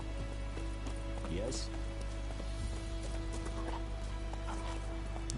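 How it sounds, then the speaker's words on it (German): Horse hooves clip-clopping in The Witcher 3: Wild Hunt, steady rhythmic hoofbeats against a constant game soundscape, with someone talking over them. "Vielleicht sollte ich doch mal das Pferd rufen."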